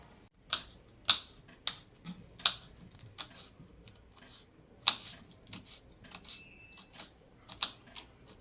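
A knife cuts chillies and potatoes on a board, giving sharp, isolated chops spaced irregularly with quiet gaps between, fairly close and crisp.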